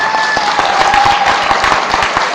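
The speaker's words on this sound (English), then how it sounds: "Everybody give them a round of applause." Steady, loud applause from an audience honoring students from elementary through high school, dense clapping that continues evenly with no speech over it.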